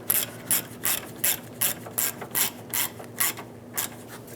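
A ratchet snugs down a bolt on the radiator cooling fan control module of a 2005-2010 Chrysler 300, giving about a dozen crisp, evenly spaced clicking bursts up close.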